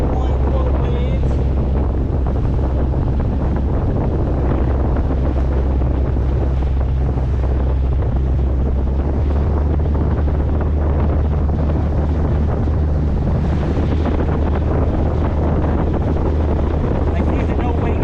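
A boat motors over roughly one-foot waves in the wind at a harbor fleet gathering: a continuous low engine drone under loud wind buffeting the microphone and rushing water, unbroken throughout.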